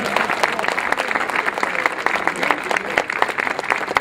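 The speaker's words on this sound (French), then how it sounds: "On peut l'applaudir, hein, on peut l'applaudir." A crowd at an outdoor civic inauguration ceremony applauds a woman who won a car prize, with steady, fairly loud clapping throughout and a faint murmur of crowd noise beneath.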